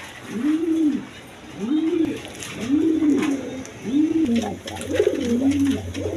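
Pigeons give about five rhythmic, rising-and-falling coos in steady succession, close and clear over a faint background hum.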